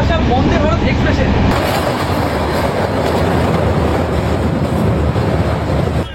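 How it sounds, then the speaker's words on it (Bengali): A passenger express train on the Howrah to Guwahati route runs at night, with a loud, close, continuous rumble and rattle of the carriages that holds steady throughout. "এইরকম রাতে ট্রেন জার্নি, সাথে বিরাট কোহলি"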